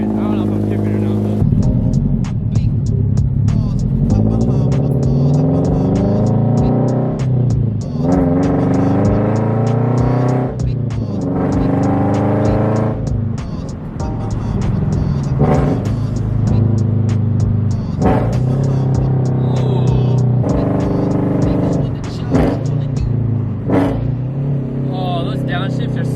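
A supercharged Scion FR-S engine revs and downshifts while driving, loud and steady from inside the car, with sharp blips and rising and falling pitch. A person talks over the engine noise.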